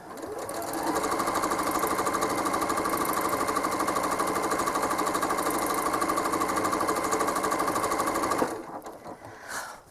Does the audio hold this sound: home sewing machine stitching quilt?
yes